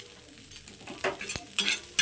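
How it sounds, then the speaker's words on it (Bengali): Egg frying in a pan while a utensil stirs it, with a soft sizzle broken by quick scraping strokes and one sharp clink, heard up close with no voices. "দেখুন বন্ধুরা ডিমটা ভাজা ভাজা হয়ে গেছে"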